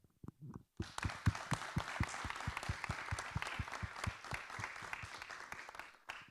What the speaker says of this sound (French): s'il y a quelqu'un à applaudir aujourd'hui, c'est Cécile